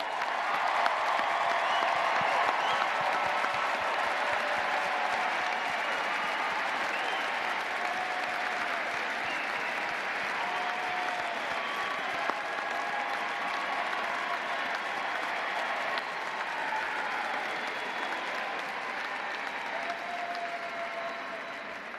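A large crowd at the 2025 Florida State University spring commencement ceremony applauds for over twenty seconds, a dense, even, sustained clapping that barely fades.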